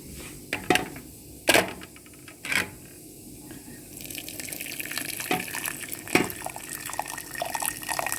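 Water runs from a tap in bursts and then flows steadily into a vessel while coffee with cloves is prepared, with splashy drips at first and a fuller stream near the end.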